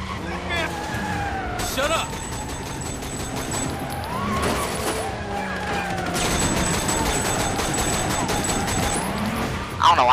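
Gunfire from a shootout with a car in the video game Sleeping Dogs crackles in repeated bursts over car engine noise, music and a voice talking throughout.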